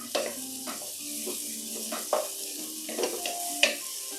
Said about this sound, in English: Sauteing it down.